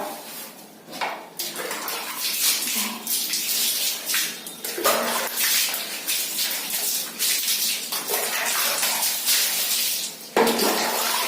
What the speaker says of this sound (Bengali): এবার আমরা পুরো ধুয়ে দেওয়ার ব্যবস্থা করবো।